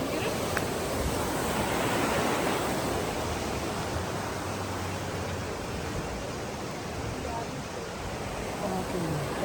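A river rushes through Johnston Canyon in Canada as a dense, steady roar of broadband water noise, close and unbroken, with faint voices in the background.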